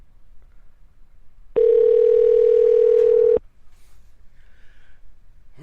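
A telephone dial tone sounds during a call to a podcast guest: a loud, steady single-pitch tone lasting nearly two seconds, then it cuts off, followed by faint line noise and a brief quiet beep.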